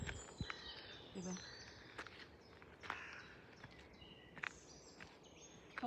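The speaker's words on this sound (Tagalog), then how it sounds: "kasi mga ibon na maririnig ulit" Birds chirp during an early morning walk outdoors in Switzerland, with short, faint, scattered calls over quiet ambience and footsteps.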